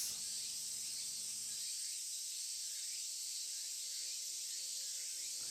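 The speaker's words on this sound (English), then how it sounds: "And the overwhelming cries of the cicadas." Summer cicadas in the video game Tsukihime Remake, a dense, continuous high-pitched shrill drone at a steady level throughout, heard alone with no talking.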